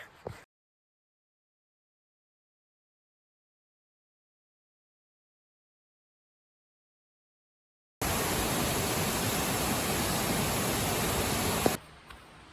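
Waterfall at Lost Creek or Long Creek Falls along the Appalachian Trail, a steady broadband rush of falling water for a few seconds after a long silence, loud and close, cut off abruptly.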